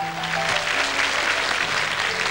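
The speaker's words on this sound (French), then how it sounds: "Je pense qu'on peut les applaudir." Steady audience applause in a television studio during a fan show broadcast, a dense even patter of many hands with a faint musical tone underneath.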